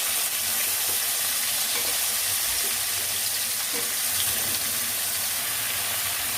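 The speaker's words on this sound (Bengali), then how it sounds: "আদাটা ভাজা হয়ে গেলে এর মধ্যে যে ছোট ছোট করে সবজিগুলো কেটে রেখেছিলাম সেটা দিয়ে দিচ্ছি।" Chopped vegetables and ginger frying in a pan, a loud, continuous close-up sizzle with crackling and occasional stirring, no voices.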